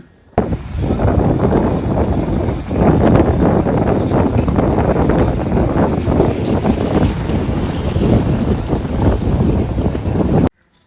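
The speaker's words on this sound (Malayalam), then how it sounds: "ഈ ബോട്ടുകളൊക്കെ മീൻ പിടിച്ചതിന് ശേഷം അഴീക്കൽ ബോട്ട് ജെട്ടിയിലേക്ക് പോകുന്നതാണ്" Fishing boat engines drone as the boats head to Azhikkal jetty, over steady wind buffeting the microphone, with water sloshing and surf washing throughout, loud and continuous until an abrupt cutoff.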